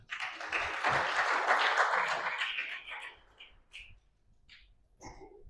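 Church congregation in Sorong applauds for God during a sermon, a dense burst of clapping for about three seconds that fades out, followed by sparse faint sounds.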